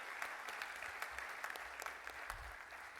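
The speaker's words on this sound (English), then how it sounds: "So a big round of applause for all of you" Audience applause at the 29th ICAI Abu Dhabi Chapter conference in 2017, a steady, fairly faint wash of clapping from a hall crowd, held level for about three seconds with no voices over it.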